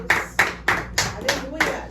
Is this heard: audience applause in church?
yes